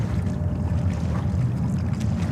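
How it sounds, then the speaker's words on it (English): Water waves near JFK airport produce a steady, dense low rumble and wash, loud and unbroken, with no talking. "with every minute we should have less noise from the waves"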